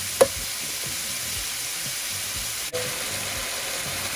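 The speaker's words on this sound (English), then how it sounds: "we're gonna cook our beef until it's done" Thin strips of beef frying in a pan for low carb fajita bowls, a steady close sizzle with a sharp tap near the start and another faint knock midway.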